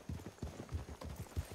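Rhythmic clip-clop of horse hooves in Red Dead Redemption II, a steady trotting beat of muffled, soft strikes heard faintly at moderate distance.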